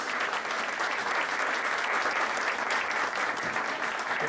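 An audience applauds the participants at a cataloguing and metadata conference, with sustained, even clapping from many hands, somewhat distant and steady throughout.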